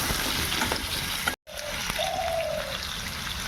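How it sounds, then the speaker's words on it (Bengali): Potatoes being stirred in hot oil in a pan, with a steady broadband sizzle and frying crackle throughout and a brief silent gap partway. Nobody speaks. "আলুটা একটু তেলের মধ্যে নেড়ে চেড়ে নিই"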